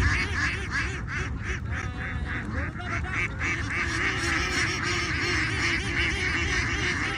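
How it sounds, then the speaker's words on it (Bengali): A flock of domestic ducks quacks loudly and continuously, many birds overlapping close by, as a boat herds them toward their shelter in a wetland. "একপাশে তার ছেলে নৌকা নিয়ে হাঁসগুলোকে তাড়াচ্ছেন, কিন্তু কিছুতেই তারা ঘরে ঢুকছে না।"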